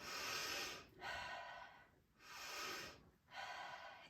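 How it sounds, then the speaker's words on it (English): Slow, deep breathing exercise: a full inhale through the nose followed by a long, slow exhale, repeated in three close, airy breaths with no talking. "So it's a full breath all the way in, and then a slow breath out."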